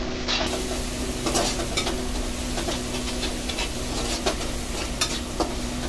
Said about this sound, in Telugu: ఇప్పుడు పచ్చిమిరపకాయలు వేస్తా